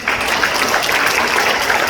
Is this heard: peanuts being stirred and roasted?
no